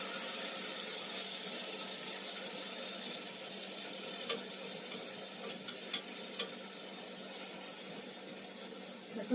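Egg rolls fry in a pan with a steady soft sizzle, faint and constant, broken by a few small scraping clicks as they are stirred and turned.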